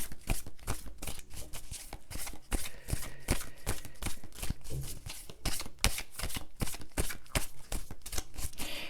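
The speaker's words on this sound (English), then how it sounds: "I want to do a little more shuffling here." A deck of cards is shuffled over and over, giving dense rapid riffling and clean slapping bursts in an irregular rhythm, close and clear with no voices.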